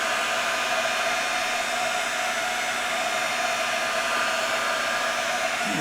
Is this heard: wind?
no